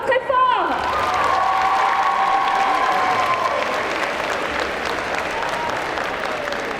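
Audience at a cosplay contest and selection at Bordeaux Geekfest 2023 breaks into sustained clapping and some cheering, loud at first and slowly thinning, with a brief voice at the very start.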